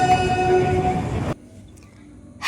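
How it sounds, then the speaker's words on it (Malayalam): The Kerala Express pulls in at Agra Cantt railway station with a loud, sustained horn blast and rumbling railway noise that cut off abruptly, leaving a quieter platform with faint distant sounds. "Kerala Express has just arrived on platform number 3."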